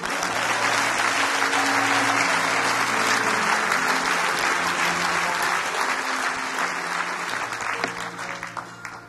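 A church congregation applauds in steady, dense clapping that fills the room for several seconds, then begins to thin toward the end.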